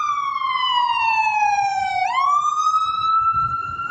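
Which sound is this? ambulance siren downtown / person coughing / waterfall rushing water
ambulance siren downtown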